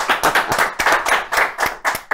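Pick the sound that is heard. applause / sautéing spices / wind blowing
applause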